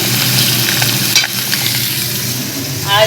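Lote fish fry in a pan, giving off a close, steady sizzle with occasional stirring sounds and no talking.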